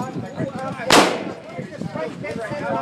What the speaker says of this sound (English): When I tap in the shoulder, hold on the trigger, fully automatic.